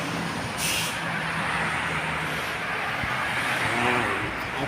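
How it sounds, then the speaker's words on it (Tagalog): Road traffic with cars, trucks and buses arriving, a steady rumbling engine wash and a brief hiss like an air brake near the start, held at a constant loud level with no clear gaps. "Ito pa mga sasakyan na nagdadatingan."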